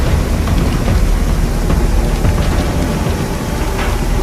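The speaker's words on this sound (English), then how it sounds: "I've just got to set the hose up like this in a wall, a shield of water." A high-pressure fire hose throws a wall of water as a shield against fire, giving a loud, dense, unbroken roar of spray close to the listener.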